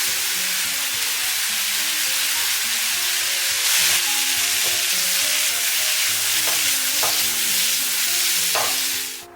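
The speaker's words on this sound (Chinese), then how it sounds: "继续翻炒均匀，让五花肉都裹上一层酱汁" Pork belly stir-fried in a pan with a poured-in sauce gives a loud, continuous sizzle and hiss, with scraping stirs and occasional clanks of the utensil against the pan, and no voices.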